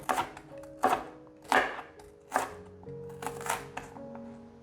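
A knife cuts Napa cabbage stems into strips on a cutting board, giving about seven sharp, separate, close-up chops at an uneven pace with quiet gaps between them.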